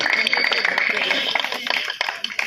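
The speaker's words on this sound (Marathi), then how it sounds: "टाळ्या वाजवा जोर जोरात" An audience claps at a prize-giving ceremony in Kegaon, Uran. The applause is a dense, steady patter of many hands that runs through the whole stretch, with a voice speaking over it.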